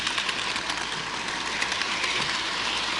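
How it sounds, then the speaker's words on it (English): Model train locomotives, F units, run around a layout with a continuous rolling rumble and faint clicking over the track joints, steady and close, with no talking. "get more footage of your trains running around the entire layout"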